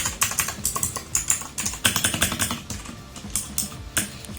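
Rapid, steady keystrokes clatter on a budget wired mechanical keyboard (Robot KB), close and clear with uneven rhythm and no speech over them.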